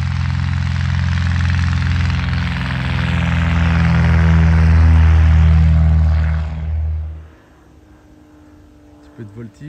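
A loud, droning propeller-plane engine roars nearby during aerobatics, its pitch shifting as it maneuvers, then fades away, leaving faint background sounds.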